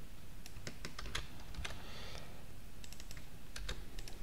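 Typing on a computer keyboard, quick irregular key clicks in short bursts, close and moderately quiet against a steady background hiss, no talking.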